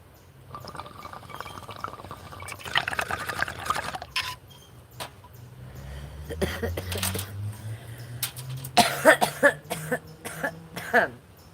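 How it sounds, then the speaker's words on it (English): Several coughs and throat-clearing sounds come in bursts, mixed with liquid sloshing and bubbling and scattered handling noises close by. "a cough is going to be had"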